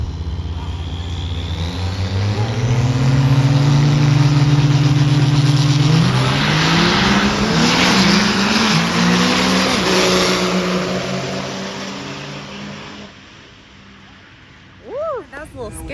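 A 2004 Ram diesel truck with a blue racing stripe makes a loud, close, sustained engine roar while drag racing, its pitch climbing through gear shifts before fading away near the end.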